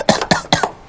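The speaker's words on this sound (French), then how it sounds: "t'as pas fini de tousser, là" A person coughs three times in quick succession, close and loud, each a short harsh burst with a brief tail, then quiet.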